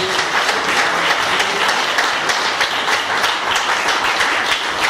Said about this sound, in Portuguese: Bata palmas, exalta a Deus.